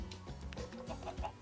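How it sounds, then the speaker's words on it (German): Chicken clucking from Minecraft, a few short clucks in quick succession, close and fairly clear with no talk. "Oh Gott, ein Huhn."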